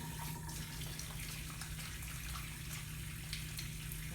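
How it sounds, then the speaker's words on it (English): Hands being washed under a running tap, a steady even stream of water splashing in a sink, moderately close and continuous without any talking. "like we always do, washing our hands."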